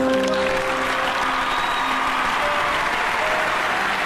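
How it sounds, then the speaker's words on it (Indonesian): Sustained audience applause on a television stage show, dense clapping filling the whole stretch at steady volume with a faint crowd murmur and some lingering musical tones underneath. "Boleh tepuk tangan"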